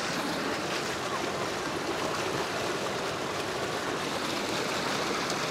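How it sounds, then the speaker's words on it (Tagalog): River water rushes steadily past a dam with small falls in Bailen, Cavite. The flow makes a continuous broadband wash, moderately quiet, with no voices. "May magandang agos ng tubig."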